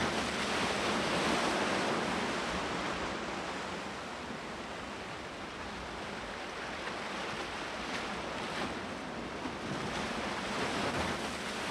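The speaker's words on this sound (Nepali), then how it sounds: "सागरको उर्लदो छालले पहरामा टाँसिएका गँगटाहरूलाई भेटेसम्म खसाल्दैछ" Ocean surf surges and breaks against the rocky cliffs of a red-crab island, a soft continuous wash that swells and recedes in the distance, with no voices.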